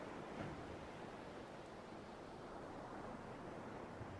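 Gentle ocean waves wash onto a beach in a steady, soft broadband wash with slight swells, fairly quiet and continuous with no voices.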